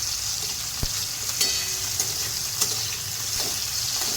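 Ridge gourd sautéing with tomatoes and mustard oil in a pan, giving a steady close sizzle broken by a few sharp taps and scrapes of a stirring spoon, with no talk.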